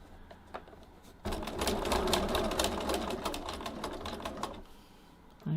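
A sewing machine stitches a tote bag strap corner to corner, a steady close mechanical whir with rapid needle ticks running from about a second in until near the end, framed by quieter handling noise.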